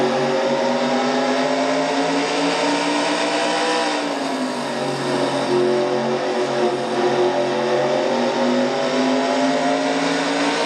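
Race car in a stock car racing video game, a FedEx Nationwide Series race, its engine droning loud and steady at high revs, with a brief dip in pitch around a gear change into fourth before climbing again.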